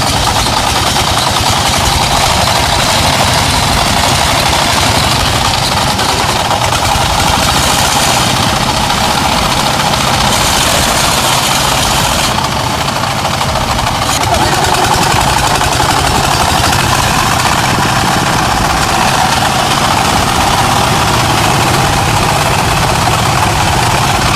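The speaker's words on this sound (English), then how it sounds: "With an angry roar, the giant iron machine struggled in the grip of the slushy mud." An off-road truck engine roars while the truck is stuck in slushy mud: a loud, continuous, heavy drone with a rough, churning texture and slight surges in level, with no voices.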